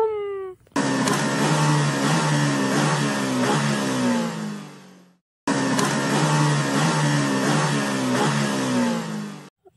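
A cartoon Maruti car engine revs loudly in two bursts of rising, whining tone that repeat the same pattern, separated by a short gap of silence.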